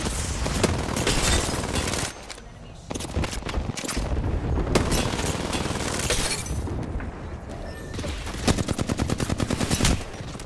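Gunfire in the video game Valorant, with loud, close bursts of rapid shots, impacts and breaking sounds packed together, then a fast rattling burst near the end, with no talking.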